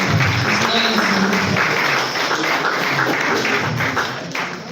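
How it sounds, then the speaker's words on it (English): A crowd at a mentorship scheme graduation ceremony applauds the chairman, a loud, dense roar of clapping mixed with crowd noise and a low murmur, tapering slightly toward the end. "A round of applause for the RPJD chairman"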